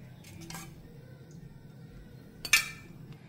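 A kadhai set down on a stove, followed by light metallic clinks of a spoon against the pan, two faint taps early and a sharper clink near the end, quiet and close.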